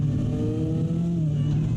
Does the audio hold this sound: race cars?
yes